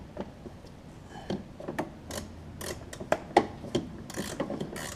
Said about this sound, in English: But just take that socket. We're going to loosen it up.